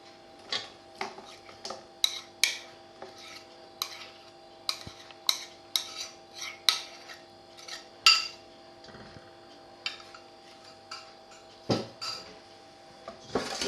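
Melted chocolate being stirred into a fondant cake batter, with a utensil tapping and knocking against the bowl in separate close clicks at an uneven pace over a quiet background.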